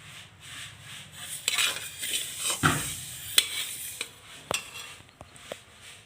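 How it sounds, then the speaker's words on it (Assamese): Sesame seeds roast in a pan while being stirred, giving repeated scraping and rattling strokes of a utensil against metal, with a light sizzle underneath and sharp knocks at intervals. "এতিয়া তিল ভাজি আছোঁ"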